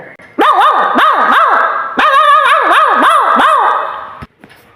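Someone mimics a street dog barking, with rapid wavering yelps in two loud bursts, each a quick string of barks.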